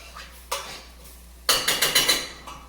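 A spoon stirs spices and bacon fat in a pot for sweet potato chili, a couple of clanks followed by a quick run of rhythmic metallic scrapes and knocks, close and clear with no talking.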